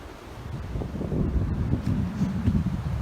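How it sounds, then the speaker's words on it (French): Strong wind on a muddy, leafy mountain forest trail, a heavy low rumbling buffet of gusts against the microphone, steady and loud throughout with no other clear sounds. "Énormément de vent."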